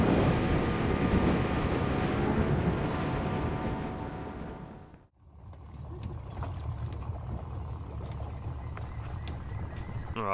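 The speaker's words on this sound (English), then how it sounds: "Bloody wind's a bit cold." Strong wind roars across the microphone on a boat ride toward Sandoval Lake in the Peruvian Amazon, loud and steady, with a brief drop to near silence midway before the gusting rush returns under the hum of the boat.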